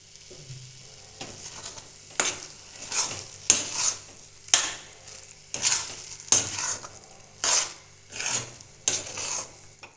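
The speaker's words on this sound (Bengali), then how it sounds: "এটা ঘিয়েতেই ভাজা হবে আর ঘিয়েতেই এটা দানাদার দানাদার হয়ে উঠবে" Chana dal halwa is stirred and fried in ghee in a wok, making a steady series of rhythmic scraping strokes about once a second over a soft sizzle. The sound is close and clear, with no talking.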